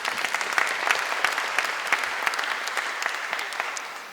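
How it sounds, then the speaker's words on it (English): A concert audience claps in a dense burst of applause at a new-music performance with an ensemble, loud and sustained before tapering off slightly at the end, with no voices over it. "If we could just give them a little applause as well."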